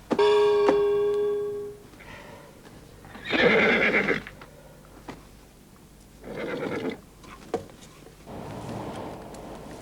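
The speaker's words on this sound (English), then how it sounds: "Inside the room, I can see a horse sitting up in bed." A horse whinnies loudly at the start, a long shaking neigh, followed by a few shorter bursts of snorting and nickering with quiet gaps between.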